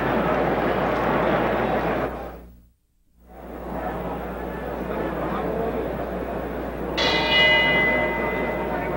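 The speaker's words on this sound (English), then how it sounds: "The bell for round 8." A boxing ring bell rings for the start of round 8 in the George Foreman vs Gregorio Peralta bout, cutting in as a bright ringing clang near the end over steady crowd noise and commentary.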